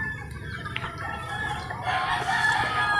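Roosters and hens at a cockfighting preparation area crow and cluck in a steady busy chorus, several birds overlapping at moderate distance, with a louder stretch of crowing toward the end.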